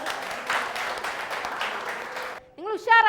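Schoolchildren clap together in a brisk burst of applause for a couple of seconds, close and lively, before it stops and a voice starts speaking.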